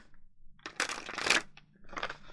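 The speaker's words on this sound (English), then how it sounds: "I'm going to just shuffle it one more time." Tarot cards riffle and slide against each other in a couple of quick shuffling bursts, close and soft, without talking.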